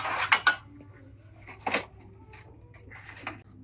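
An older Comet aluminum pan and a small muffin tin clatter as they are handled, a few sharp metallic knocks and scrapes spaced out against a quiet background.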